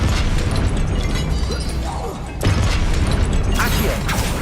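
Confringo spell blasts in Hogwarts Legacy burst loudly against statues, a dense crackling explosion followed by a second sharp blast, with a voice calling out between them.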